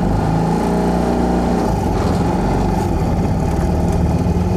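A Trojan 200 Heinkel Kabine bubble car pulls away in first gear, its small engine droning loudly and steadily up close as it gathers speed.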